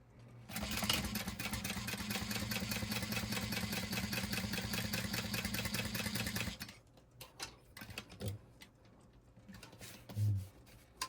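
A sewing machine stitches fabric in one fast continuous mechanical whir lasting about six seconds, then stops abruptly, leaving faint handling clicks and small thumps.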